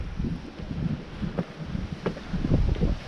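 Gusty wind rushes across an open, boulder-strewn mountain trail, a steady low roar with brief flutters and buffeting swells that build louder toward the end.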